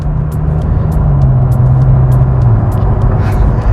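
A McLaren GT's 620 hp engine idling low and steady at about 60 km/h, its drone dipping slightly as the automatic gearbox stacks up into sixth, with faint road noise and no talk.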